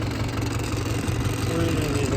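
A tractor idles in a field with a steady, continuous low engine rumble and a rough mechanical chug, close and constant for the whole short stretch.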